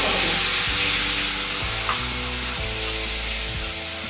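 A ground paste of tomato, onion and green chili fries steadily in a pan with a constant close sizzle and occasional stirring scrapes, no voices.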